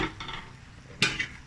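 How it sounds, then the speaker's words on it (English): Thick pineapple puree simmers over low heat in a pot while being stirred, a quiet bubbling with one sharper scraping pass near the end. "Simmer over low heat to thicken the puree, which will take a while."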